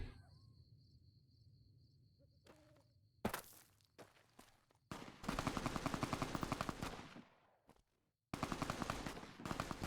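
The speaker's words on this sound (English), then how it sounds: "Who's shooting?" Gunfire in Fallout: New Vegas: bursts of rapid shots, then sustained loud automatic fire, alongside footsteps and a faint insect-like chirp in the background.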